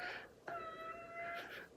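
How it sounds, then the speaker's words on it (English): A pet cat meows insistently to be let out into the snow: a drawn-out, tonal cry, then a shorter call near the end, fairly close in a quiet indoor room. "My cat wants to go outside and play in the snow"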